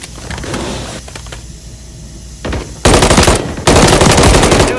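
Automatic weapon fire in Call of Duty: Modern Warfare III multiplayer beta: scattered shots early, then loud, dense sustained bursts of rapid gunfire that fill the last two seconds, with no talk.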